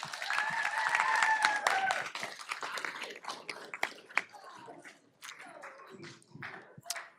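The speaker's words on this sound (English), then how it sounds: "All right, one last applause for Rod." Audience at a school board meeting applauding, a burst of clapping that fades into scattered claps, with a voice and some chatter over it.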